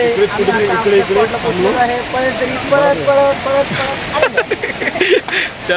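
A steady roar of rushing water from Palasdari waterfall fills the background while someone talks over it throughout.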